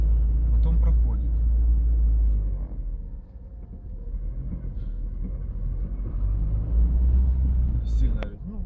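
A Chery Kimo's engine growls under the hood while driving, a steady low rumble with the road noise that eases briefly and then swells again, and a voice is heard talking over it.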